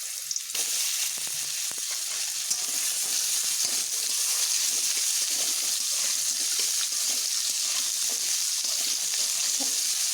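Potatoes and radish pieces fry together in oil with a dense, continuous sizzle and some watery hiss and stirring, close and loud throughout.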